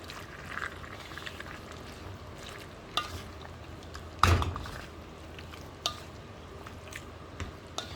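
Sliced onions fry in a pan for a Thai-style red beef dish, with a soft steady sizzle broken by a few clinks and scrapes of stirring, one sharper knock near the middle.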